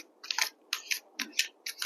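Tarot cards being shuffled by hand during a love reading, a quick series of crisp riffling bursts about every half second, close and fairly quiet with no talking.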